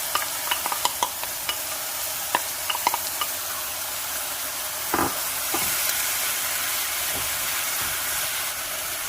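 Onion chunks, scallion whites and kimchi dropped into a hot pot for kimchi jjigae, giving a steady frying sizzle with scattered stirring clicks and one louder splash of ingredients midway, close and without talk.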